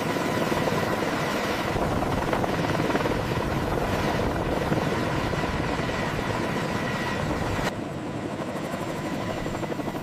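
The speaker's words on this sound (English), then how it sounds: "The Mil Mi-28 Havoc helicopter executes a slow forward flight across the airfield." Mil Mi-28 Havoc attack helicopter in slow forward flight over an airfield, giving a steady, loud rotor and turbine roar with a continuous broadband wash that drops slightly in level near the end.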